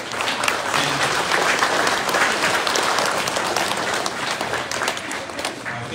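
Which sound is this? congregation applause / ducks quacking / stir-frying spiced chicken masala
congregation applause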